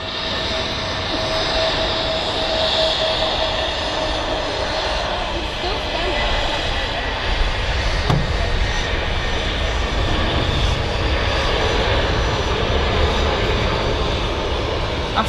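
An EasyJet airliner lands at Manchester Airport, its jet engines producing a broad, steady roar that fills the air throughout, with a faint whine above; people talk faintly underneath.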